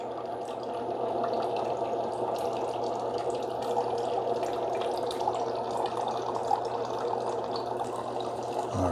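A steady gurgling and trickling of hot water through a Ninja specialty coffee maker, continuous and moderately quiet with occasional small bubbling pops.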